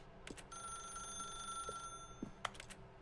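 A telephone rings in The Stanley Parable video game, steady repeated bell tones over a low hum of ambience, with a sharp click near the end.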